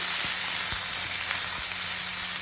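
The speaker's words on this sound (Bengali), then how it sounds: "মশলা গন্ধটা যাতে যায় তার জন্য হালকা ভেজে নিচ্ছি" Black cumin, garlic and green chilli fry lightly in hot oil, producing an even, soft hiss with a handful of tiny pops, close and unbroken.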